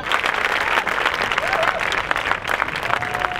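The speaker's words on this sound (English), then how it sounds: "The crowd went so crazy, right? They went nuts, guys." A crowd on a beach applauds and cheers, with dense continuous clapping and a few shouts heard steadily and fairly close throughout.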